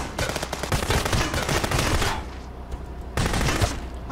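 Rapid bursts of gunfire in the video game Contraband Police: loud clattering automatic shots for about two seconds, a short lull, then another burst of firing.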